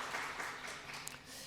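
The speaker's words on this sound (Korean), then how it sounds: "박수를 한번 할까요?" A church congregation at a Sunday service applauds in celebration of a member's birthday, producing a dense, steady wash of clapping at moderate volume over a short stretch.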